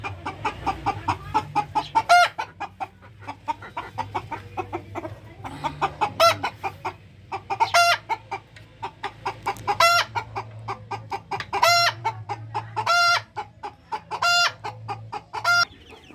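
A hen and chicks clucking repeatedly up close, sharp high calls coming in a steady series over a low continuous hum.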